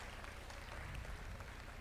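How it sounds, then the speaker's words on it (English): Applause from a large summit audience, a dense, steady wash of clapping that stays even and fairly distant for the whole short moment. "Can we have a round of applause for Honorable Minister Ranuj Pegu?"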